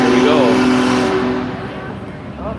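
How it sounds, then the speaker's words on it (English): A truck rolls past close by on a road in Baldwin, Wisconsin, a loud broad whoosh of engine and tires fading steadily as it moves away, with a voice speaking briefly over it. "Wait till that truck goes by."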